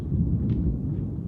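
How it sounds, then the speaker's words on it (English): Low, continuous thunder rumbling through a rainstorm, a steady deep roll that fills the whole stretch with no voices over it. "You can hear the thunder"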